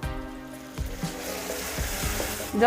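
Spice masala with a little dry chili powder sizzles and fries in a pan as it is stirred, a steady hiss with scraping stir sounds and a louder splash near the end.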